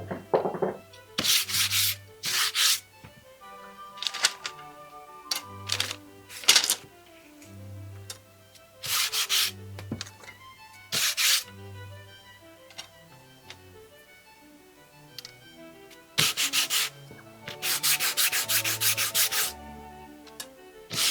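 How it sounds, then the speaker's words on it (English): Hand sanding on cherry wood strips in repeated bursts of rough, raspy rubbing, separated by short pauses and a few light clicks, fairly close and steady. "that is all the pieces rough sanded"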